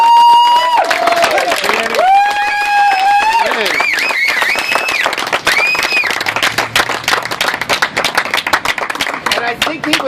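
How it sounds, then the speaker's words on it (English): Audience at a memorial for Danny Williams in the Castro, San Francisco, clapping and cheering loudly and steadily through the whole stretch, mixed with voices and tonal sounds above the crowd. "please join me in a huge round of applause for a life very well lived for our dear friend"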